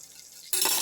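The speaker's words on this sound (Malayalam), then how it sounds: "തേങ്ങാപ്പാൽ ഒഴിച്ചിട്ട്" Coconut milk pours into a simmering mackerel fish curry: a short, close liquid splash that starts abruptly halfway through after near silence.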